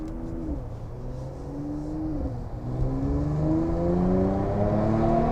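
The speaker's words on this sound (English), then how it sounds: "you'll hear the engine, you'll hear the exhaust" A 2019 Mercedes-Benz AMG C43 engine revs and accelerates through gear changes, its rising exhaust note loud and steady, climbing in pitch with each pull.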